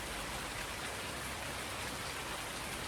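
Steady hiss of rainfall in Farming Simulator 19, an even, dense patter of drops on surfaces with no breaks, moderately quiet and continuous, no voices.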